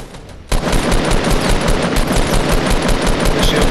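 Rapid automatic gunfire in Fortnite, a dense, loud burst of shots that starts abruptly after a brief quiet moment and keeps up without a break.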